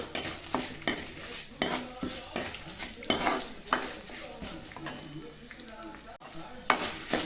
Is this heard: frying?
yes